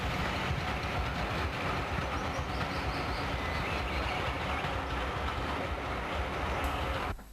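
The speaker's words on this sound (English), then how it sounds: "B1s hustle past the same concrete hut" B1 steam locomotives hustle past on a railway line in a loud, continuous rushing rumble with a faint rhythmic rail clatter, alone until it cuts off at the end.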